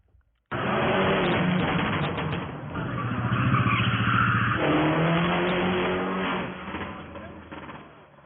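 Car engines rev hard and tyres squeal at an unsanctioned street car meet, a loud, steady roar of acceleration and skidding that swells in the middle and fades toward the end.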